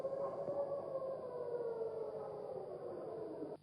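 Civil defense sirens wail steadily during a missile alert, a faint, distant sustained tone that slowly falls in pitch under a low rumble.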